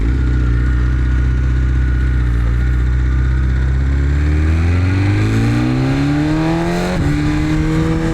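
A BMW S 1000 RR sport motorcycle accelerates hard, its close, loud engine note climbing steadily in pitch before a quick upshift near the end.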